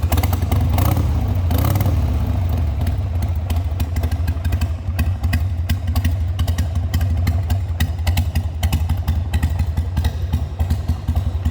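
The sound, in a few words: 2000 Harley-Davidson XL883 Sportster motorcycle engine idling and revving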